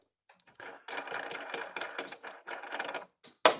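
Wrench clicking and ratcheting as a nut comes off a bolt while an electric fence energizer is repaired, a run of close, quick metallic clicks in short bursts with brief pauses.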